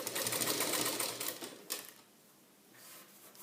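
Sewing machine top-stitching the waistband of a lined blouse, a loud, fast, continuous whirring run that slows and stops, followed by quiet and a brief faint stir.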